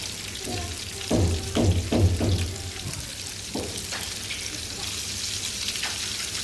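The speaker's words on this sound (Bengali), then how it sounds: "এখন আমি ইলিশ মাছগুলো ভেজে নিব" Hot oil crackles and sizzles steadily as hilsa fish fry, with a few bursts of louder spattering and clattering near the start.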